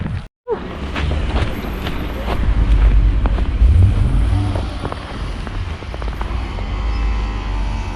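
Wind buffets a phone microphone during a walk through snow with a small dog in Canada, a steady low rumble with rising gusts and occasional footsteps, loud and close throughout.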